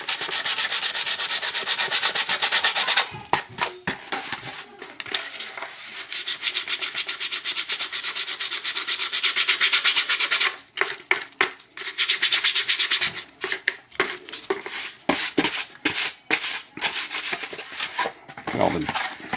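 Steady hand sanding of a painted surface on a rotor mast part, a continuous close scrubbing rasp that runs alone for several seconds, then breaks into short choppy strokes with brief pauses.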